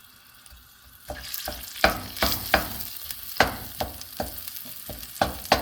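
Onion sizzles in hot oil in a pan for a serrano green hot sauce, with a quiet start followed by a string of sharp scraping stir strokes and crackling bursts close by.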